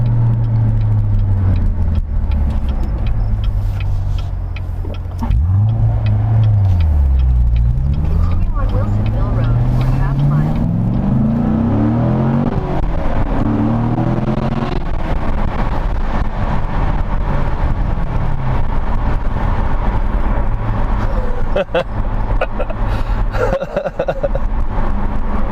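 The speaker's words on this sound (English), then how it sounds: "Don't know if you can hear the exhaust. It sounds really good." Exhaust of a Chevrolet Corvette C7 Grand Sport driving on a road trip, a steady low engine drone rising and falling in pitch with acceleration throughout, with someone talking over it.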